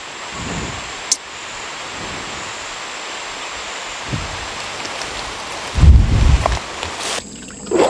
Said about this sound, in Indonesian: Hujan mas bro.